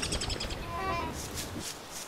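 Birds chirping in the survival game Don't Starve, a few short bright tweets over a steady low ambient bed, moderately faint.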